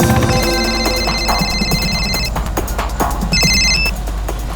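A telephone bell rings loudly in repeated bursts in a Hindi TV crime drama, clear and close, with a short pause before it rings again.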